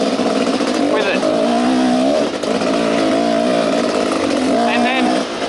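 A Husky WR 360 two-stroke dirt bike engine, fitted in a newer-generation frame, revs up and down in steady waves, loud and close, with a voice talking over it.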